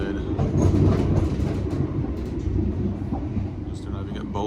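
A Nova 2 passenger train rolls into Bolton station's platform 5 with a heavy low rumble and clattering wheels, gradually easing off, while people talk faintly nearby.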